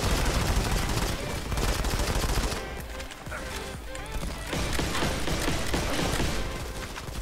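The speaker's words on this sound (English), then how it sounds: "Let's push him with the shotgun." Shotgun blasts and other gunfire from the mobile shooter game Modern Combat 5 crack repeatedly in dense bursts over a busy backdrop of game effects, with brief lulls between volleys.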